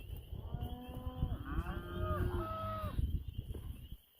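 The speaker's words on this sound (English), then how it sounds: "That's my crazy cow." A cow on a farm pasture lets out a long, loud, wavering moo that lasts several seconds, with faint background rustle and no talking.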